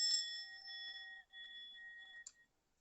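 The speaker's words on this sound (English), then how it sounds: "Let's listen to the bell." A bell rings with a clear sustained tone and bright overtones, struck twice in quick succession then once more near the end before fading to silence, heard alone in a quiet room.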